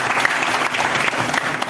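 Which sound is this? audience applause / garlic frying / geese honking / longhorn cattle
audience applause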